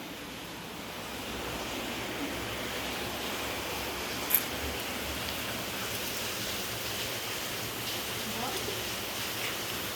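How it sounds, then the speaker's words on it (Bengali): Steady rain falls outdoors after a long dry spell, making a continuous broadband hiss with one brief sharp click partway through. "অনেকদিন পর আজ বৃষ্টি হচ্ছে, আমি বৃষ্টি দেখতে যাবো"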